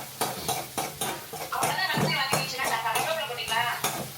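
Onions sauteing in a pan for tomato chutney, stirred with a spoon that knocks and scrapes against the metal in a quick irregular rhythm over a soft sizzle, with a voice faintly in the background.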